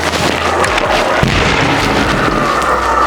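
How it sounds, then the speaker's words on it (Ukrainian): A heavy explosion from a detonated demolition charge booms out, followed by a dense, sustained roar of rumbling debris and crackle that fills the whole clip without fading. "Нажимається кнопка вогонь, виходить вибух."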